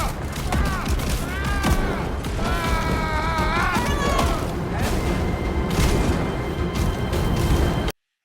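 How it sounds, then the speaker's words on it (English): Methane gas trapped beneath a frozen lake ignites in a massive explosion, a dense, sustained roar of booms and crashing debris with tonal creaks and groans. It stays loud throughout, then cuts off abruptly. "Instantly, the methane gas trapped beneath the frozen lake ignites, erupting into a massive explosion."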